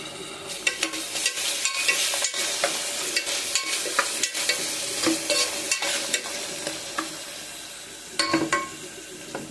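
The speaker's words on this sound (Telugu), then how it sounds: "ఆ మగ్గేటప్పుడే కొంచెం అల్లం వెల్లుల్లి పేస్ట్ కూడా వేస్తున్నానండి" Ginger garlic paste being stirred into a simmering palm fruit curry in a pan, a steady sizzle broken up by repeated scraping and stirring clinks.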